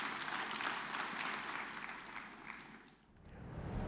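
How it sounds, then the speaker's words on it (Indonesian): Congregation at a Sunday worship service applauding, a dense, moderately quiet patter of clapping that dips briefly near the end before swelling again. "Kasih tepuk tangan bagi Tuhan Yesus."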